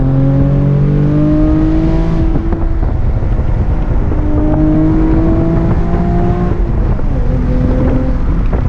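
A 2020 Chevrolet Camaro RS V6 1LE revs hard through the gears, with engine pitch climbing, then dropping sharply as the driver brakes and blips the throttle for heel-toe downshifts into a corner, heard loud from inside the car.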